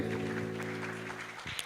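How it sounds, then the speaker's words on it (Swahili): An audience at a women's leadership awards gala applauds an award winner, a steady wash of clapping under sustained musical tones, with a brief burst of louder claps near the end. "Makofi mazuri kwake."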